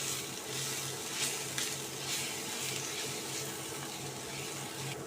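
Chilli, turmeric, cumin and coriander powders sauté in a pan for a chicken bhorta, a soft, even sizzle and hiss with faint stirring scrapes, quiet and continuous, with a low periodic hum in the background.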